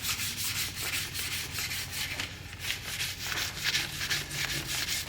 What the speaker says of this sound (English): I'm going to keep sanding this for a minute.